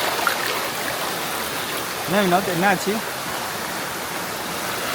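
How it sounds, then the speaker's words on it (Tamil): A small waterfall at the Sadasiva Kona temple pours with a steady, loud rushing wash throughout, and a person speaks briefly over it midway. "ஃபால்ஸே வந்துட்டோம். ஒரு மினி ஃபால்ஸு."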